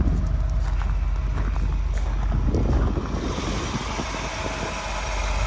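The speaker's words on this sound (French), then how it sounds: "Moteur qui tourne très bien," A car engine idles smoothly without stumbling, a continuous low rumble under outdoor wind noise, steady throughout with a slight drop in level midway.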